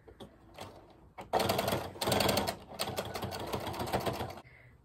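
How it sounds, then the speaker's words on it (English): A sewing machine runs in bursts in a studio, stitching something closed, its rapid mechanical whirring loud and close, pausing briefly between runs and stopping near the end. "I gotta sew it up."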